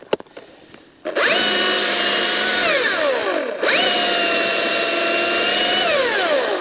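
A Husqvarna electric chainsaw revs up and cuts through damp campfire wood in two long, steady whining runs separated by a brief dip, loud and close, with no voices.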